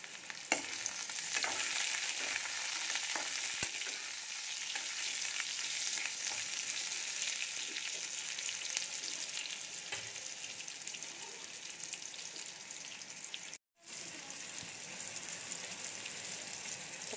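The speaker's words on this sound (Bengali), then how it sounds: "আমড়াটা একটু ভাজা ভাজা করে নেব" Hog plum (amra) pieces frying in oil in a pan, a dense continuous sizzle with intermittent stirring scrapes, close and steady throughout, briefly cutting out near the end, with no talking.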